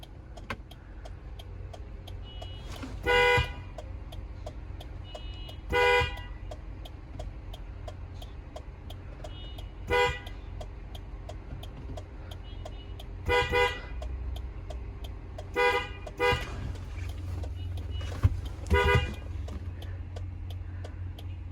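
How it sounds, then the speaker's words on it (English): Car horn honks in short bursts, beeped in a playful musical pattern, sounding from nearby at intervals over a steady idling engine rumble. "somebody was honking and they were like doing it in like a musical way, like meep meep"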